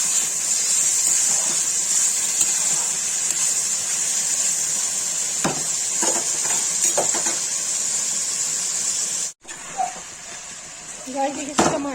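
Onions, salt and garam masala sizzle in a pan while being stirred for chicken malai tikka, a steady hiss of frying with occasional scraping clinks, heard close and continuous.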